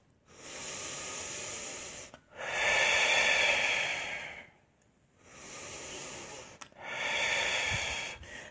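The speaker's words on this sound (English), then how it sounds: "So you might want to take some deep clearing breaths" Deep, slow breaths taken during a guided meditation, four long airy inhales and exhales with short silent pauses between, close and fairly loud, with no talking.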